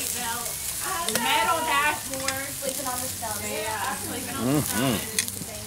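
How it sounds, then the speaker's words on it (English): Steady sizzling hiss from oysters on a tray at an outdoor oyster festival, with some indistinct tonal sounds and faint voices mixed in over it. "You can see they're still sizzling right there on the tray."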